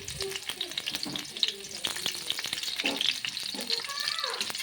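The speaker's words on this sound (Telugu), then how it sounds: "దీంట్లో పచ్చిమిర్చి ఇవి కొంచెం లైట్గా వేయించుకోవాలి" Green chillies sizzle lightly in hot oil in a home kitchen pan while a veg manchurian is being made, a continuous crackling fry broken by scraping and clinking stirring sounds.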